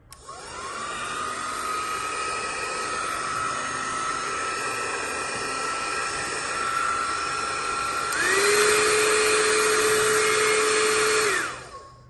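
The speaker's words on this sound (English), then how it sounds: "let's try Prife International's iTeraCare Classic Hot Air Blower" Prife iTeraCare Classic hot air blower running close by, a steady whooshing motor hum that starts up, holds, then jumps to a louder, higher setting before cutting off near the end, with no voices.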